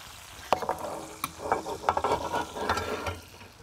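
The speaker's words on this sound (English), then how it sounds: "we're basting the surface of the ribeye with that beautiful brown butter" Ribeye steak basted with brown butter in a wood-fired oven, close sizzling and spitting with sharp scrapes and taps of a spoon as fat is ladled over the meat.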